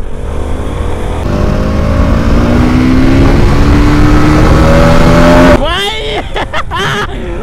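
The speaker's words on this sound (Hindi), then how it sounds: "न्यू बाइक भाई, इसकी भी देखो पल्सर NS। चलो एक ड्रैग रेस करते हैं, एक लगाओ।" Bajaj Pulsar NS motorcycles rev and accelerate hard in a drag race on a hilly road, a loud engine whine climbing steadily in pitch for several seconds before cutting off, then voices talk amid wind noise.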